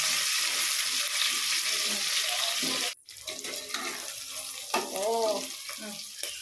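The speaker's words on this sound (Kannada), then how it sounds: "ಈಗ ಸ್ವಲ್ಪ ಈರುಳ್ಳಿ ತೊಗೊಂಡು ಹಾಕ್ಕೊಂಡಿದ್ದೀನಿ, ಫ್ರೈ ಮಾಡ್ಕೊತಾ ಇದ್ದೀನಿ" Onions frying in a pan for mutton biryani, a close hissing sizzle that cuts off suddenly midway, then resumes more quietly with stirring clatter and a brief clink.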